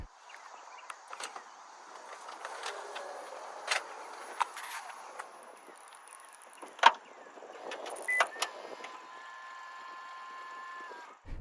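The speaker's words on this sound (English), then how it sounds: "while the sliding door is closing, I can touch the front door handle, which will lock the car" A 2024 Toyota Sienna Limited Hybrid's power sliding door closes, then the locks clunk and the mirrors fold in with a faint motor whir, a series of soft mechanical clicks and thumps heard close up, with no talking.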